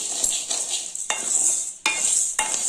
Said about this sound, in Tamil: நல்லா கைவிடாமல் கிளறணுங்க